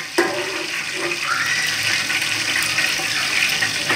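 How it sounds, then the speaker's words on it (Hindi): Bay leaves fry in hot oil for beef pulao, making a steady, close sizzling hiss that continues throughout without talk. "ये हमारे तेज़पात फ्राई हो रहे हैं।"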